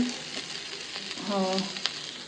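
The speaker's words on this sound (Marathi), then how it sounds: "बांगडे हाडले म्हणटकीर म्हाजी ही ऑल टायम फेवरेट सो हें भाजून घेता" Mackerel fish sizzling as it fries in a pan, a steady close crackle with a tonal burst partway through and a sharp pop near the end.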